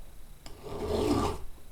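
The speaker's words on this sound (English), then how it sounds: "Now I like to roll the file freehand as well, just to finish off the rakers" A round hand file rubs across the rakers of a chainsaw chain in a single slow rasping stroke, close and moderately loud, set apart by a brief tick before it.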